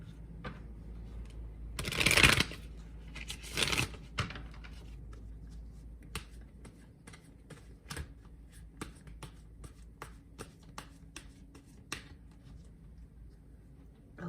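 A deck of tarot cards is riffled and shuffled in two brisk bursts, followed by a long stretch of scattered soft taps and clicks as the cards are cut and handled, close and quiet with no talking.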